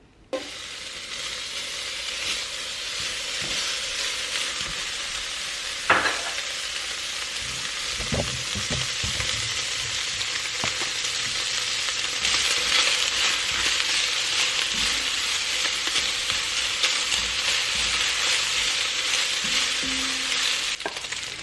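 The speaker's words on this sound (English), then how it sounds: "While the bacon is cooking" Bacon frying on a stovetop at medium heat, a steady broadband sizzle with occasional crackles and pops, close and continuous throughout.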